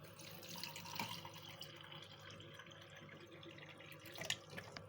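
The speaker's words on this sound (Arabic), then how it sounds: "اهي مليناها خل" Vinegar is poured into a glass already holding salt and lemon, making a faint, steady liquid trickle with a couple of small splashes, quiet and close with no talk.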